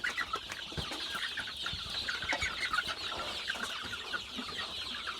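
Newly hatched baby chicks chirp in a steady, high, overlapping chorus that runs continuously, fairly close and moderately loud.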